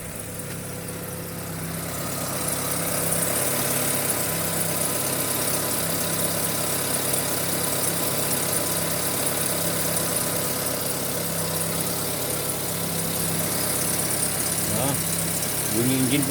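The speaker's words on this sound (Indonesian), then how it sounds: "Bunyi engine pun dah halus sikit." Proton Exzora engine idling after an intake and exhaust valve spring fix, a steady low mechanical hum with faint ticking that rises after a quiet start and stays even, with a few brief knocks near the end.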